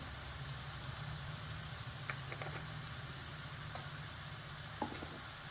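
Asafoetida sizzling in hot oil for an egg and fenugreek pulusu, a steady dense crackle with a few sharper pops, continuous and fairly close, with no talking.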